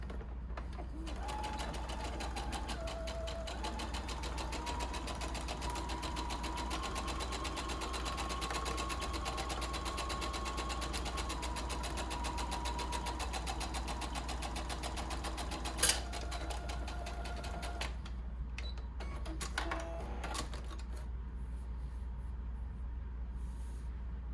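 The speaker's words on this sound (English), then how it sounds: "We'll stitch that up with a 1/2 inch seam allowance." A sewing machine stitches a seam with a half-inch allowance in a steady, close, continuous run of rapid mechanical chatter for over twenty seconds, with a small click near the end.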